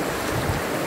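A swollen river in Sindhuli, Nepal rushes loudly, a dense, roaring wash of water close by with a windy rumble, no voices over it.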